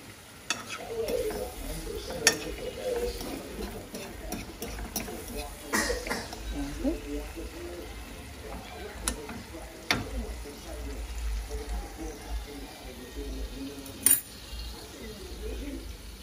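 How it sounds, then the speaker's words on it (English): Chicken pieces sautéing in a pot for Jamaican stew chicken, with a steady low sizzle, occasional spoon scrapes and clinks against the pot, and faint voices now and then underneath. "now I'm gonna wait for this to saute"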